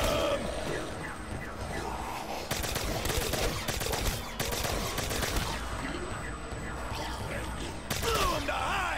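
Rapid gunfire shooting zombies in a Zombies mode video game, repeated bursts of loud automatic shots with brief pauses between them and mechanical clatter in the gaps.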